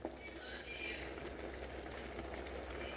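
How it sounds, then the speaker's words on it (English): Shrimp and mushroom rice bubbling in a pot, a steady soft crackling simmer that holds level throughout with no talking. "This is 5 minutes of boiling. Our rice is doing good."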